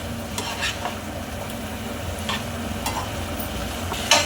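Jowar puffs being stirred with masala in a pan, with a spatula scraping and tossing in repeated strokes over a low background sizzle and occasional sharp scrapes against the pan.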